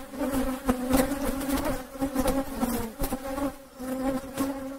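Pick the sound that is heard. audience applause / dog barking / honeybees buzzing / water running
honeybees buzzing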